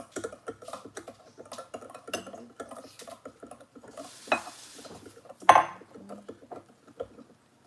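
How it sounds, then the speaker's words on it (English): Dry ingredients are stirred into wet batter in a bowl, heard as soft, irregular scraping and clicking of a utensil against the bowl, with a couple of louder knocks. "Let me mix it just a little bit."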